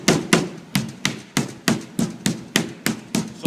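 Meat pounded flat for braciole, a dozen or so evenly spaced heavy thuds in a steady rhythm, loud and close with no talking.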